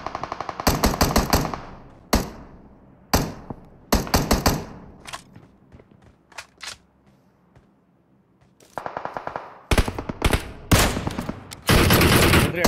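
Automatic gunfire in a battle royale game, with repeated loud bursts and single shots coming in clusters and separated by brief pauses, ending in a long sustained volley.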